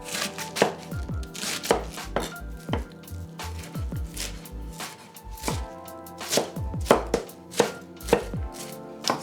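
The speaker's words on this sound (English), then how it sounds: "We're gonna start by thinly slicing the cabbage, or just cut it in small pieces, as small as you can." Knife chops a half cabbage into small strips on a cutting board, with sharp, close thuds coming in quick irregular clusters for several seconds and no talking.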